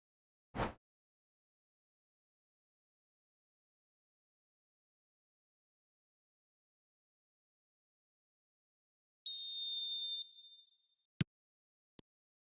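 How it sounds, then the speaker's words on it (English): A referee in the eFootball 2026 video game gives a single shrill whistle blast lasting about a second. Near silence surrounds it, broken only by a soft thump before and a couple of sharp clicks after. "There's the whistle."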